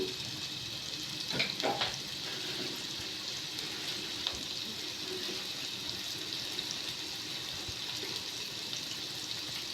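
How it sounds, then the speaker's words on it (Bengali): Onions frying in hot oil on an electric stove while beef is being cooked, a steady broad sizzle throughout with a few clinks of stirring near the start and middle. "এখন প্রথমে তেলের মধ্যে পেঁয়াজগুলোকে ভাজতেছে আমাদের"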